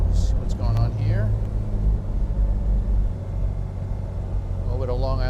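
A 1991 Range Rover two-door diesel drives along a road, its engine a steady low rumble with road noise from inside the cabin, under someone talking.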